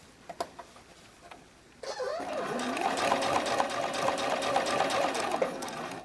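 A sewing machine stitches a bralette cradle, first a few soft clicks, then a steady, close whirring hum with a rapid mechanical patter running without pause to the end.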